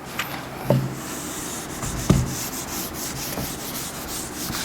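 Writing is rubbed off a board during a lesson on matrices, making soft, steady scrubbing strokes with a couple of sharper knocks, heard alone at moderate volume.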